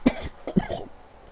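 A race commentator coughs hard, two sharp close bursts followed by a short rasping throat-clearing tail, with no talk.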